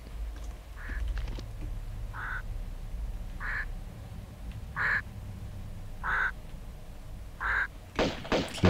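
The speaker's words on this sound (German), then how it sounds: "Klingt eher wie eine Ente." A duck quacks in Tomb Raider 2 (Golden Mask), six evenly spaced calls about every second and a quarter over a low ambient game drone, ending in a few sharp clicks.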